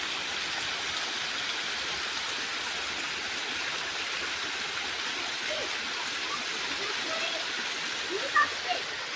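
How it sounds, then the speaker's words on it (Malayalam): Spring water welling up out of the ground and flowing steadily, a continuous close rushing and gurgling wash that stays even throughout, with a few faint brief sounds near the end. "ഇവിടെ മൊത്തം ഗൈസിലൂടെ വെള്ളം ഇങ്ങനെ വരുന്നുട്ടോ"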